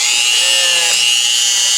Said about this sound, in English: Or you can do a wire wheel and Dremel.